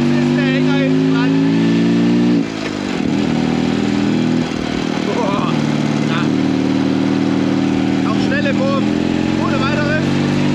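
A BMW R75 motorcycle with sidecar, a heavy wartime Wehrmacht rig, runs loud and close, its engine note rising and steadying as it revs, with people speaking over the engine.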